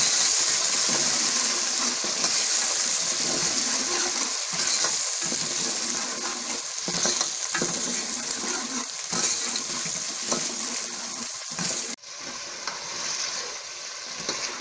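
Ginger garlic paste and onions sizzle and fry in a pot while being stirred, a loud continuous crackling hiss close by with occasional scraping knocks of the spoon, steady throughout with no talk.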